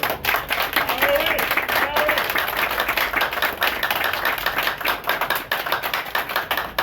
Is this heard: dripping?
no